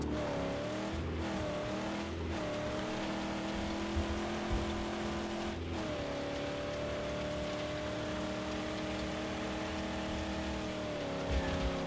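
A vehicle engine droning steadily while driving in the Mad Max game, holding a sustained tone with a few gear-like pitch shifts, loud and continuous with a rain-like hiss underneath.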